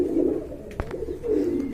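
A pair of Mili Huma pigeons cooing, low throaty coos in two soft phrases separated by a brief sharp knock, close and fairly quiet.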